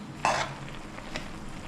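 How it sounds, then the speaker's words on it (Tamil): Raw rice grits are stirred in a cooking pot, a quick gritty scrape of a spoon against metal followed by a few faint soft clinks and light sizzling. "இந்த பச்சரிசி குருணையை நம்ம அதில் சேர்த்துட்டு கிண்டி விடணும்."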